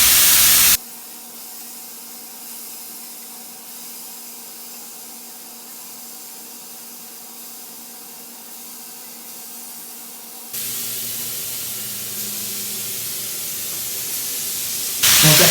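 Beef for sashimi searing briefly in a hot pan, a loud, continuous hiss that jumps abruptly in level partway through and again at the end.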